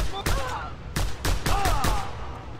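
Sharp gunshots from the action game Just Cause 2 crack in a quick irregular series of about six loud bursts, close and punchy, with ringing tails and in-game effects between shots.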